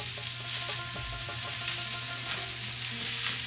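Chicken malai tikka sizzles on a grill over a gas flame, a steady close hiss of frying with faint crackles and a low hum underneath, no talk.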